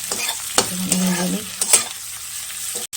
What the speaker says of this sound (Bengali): পেঁয়াজটা ভেজে নিই দিয়ে দিলাম আদা রসুন